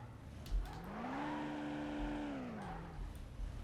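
Tires squeal in a long, rising-and-falling whine as a car drifts in Car Simulator 2, with an engine rumbling beneath; the screech swells, holds for a couple of seconds, then fades, and there is no talking.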